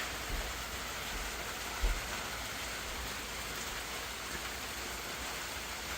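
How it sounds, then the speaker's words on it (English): Heavy rain pours down in a dense, steady hiss, with no pauses and one brief low thump partway through. "7 hours later, and we are still raining"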